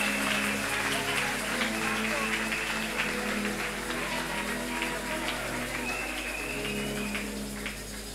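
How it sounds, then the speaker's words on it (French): A church congregation applauding and cheering, steady dense clapping and crowd noise sustained throughout, with a sung or spoken voice faintly above it. "Nous pouvons les accueillir en acclamant fortement pour la gloire de Jésus."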